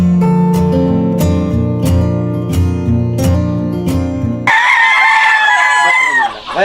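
Fayoumi chickens on a poultry farm cluck and crow loudly and close by, breaking in sharply after a few seconds of steady music.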